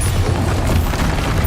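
A Bombarda spell explosion in the Hogwarts Legacy video game gives a loud, sustained rumbling boom with dense low-end roar that holds steady throughout, with no voices.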